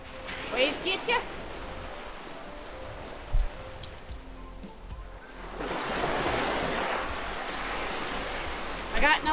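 Sea waves break on an empty beach below chalk cliffs, with a swelling hiss of surf rising midway and holding steady, while voices and jangling sounds are heard nearby early on.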